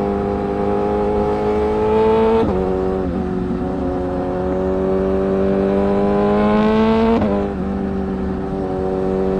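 Vehicles pass close by on a foggy highway between Warangal and Hyderabad during a ride on a Benelli TRK502 motorcycle, a steady loud engine drone with harmonic tones rising and two sharp whooshing passes.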